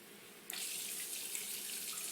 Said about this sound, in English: Fill the jar back up.